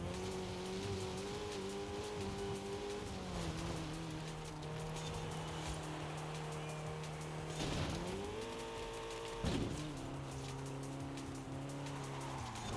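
Racing car engine in a crossroad video game, a steady droning note that climbs and dips with gear shifts, with tire squeals and brief skids around eight and ten seconds, continuous and fairly loud throughout.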